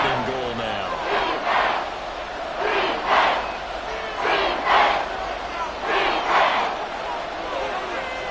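Stadium crowd in Madden 24 at a Kansas City home game roaring in rhythmic surging chant-like waves, loud and continuous, with faint commentary underneath.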